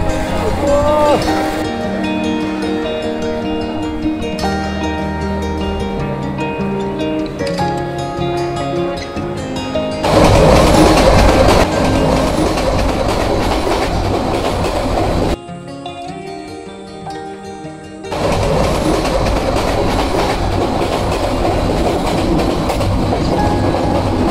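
A train pulls out of a railway station with a loud, continuous rumble and rhythmic clickety-clack of wheels on track, close by and filling the scene throughout.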